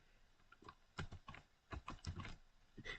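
Keys tapped on a computer keyboard for a shortcut: a handful of soft, close clicks in irregular clusters, fairly quiet with no talking.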